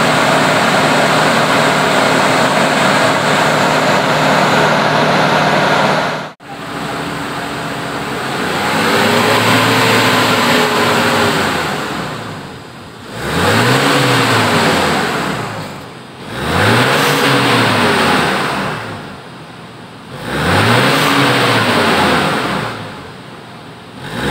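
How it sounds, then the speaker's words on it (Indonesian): A Suzuki Escudo engine revs after an engine flush, rising and falling in several long, loud swells with a short pause early on, close to the microphone and without any talk. "Setelah habis, kita gember beberapa kali sampai suara lembut, suara mesinnya lembut."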